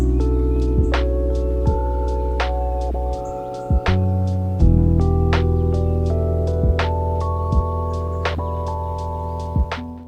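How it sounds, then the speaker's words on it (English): An unfiltered, simple lo-fi beat: crisp repeating drum hits over warm sustained chords and a low bass line, loud and steady with a brief dropout midway, no voices. "I've just created a really simple lo-fi beat which sounds like this with no filtering"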